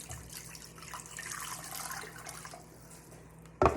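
Fresh water poured from a container into a cooking pot, a soft continuous splashing stream for about three seconds ending with a brief loud clunk.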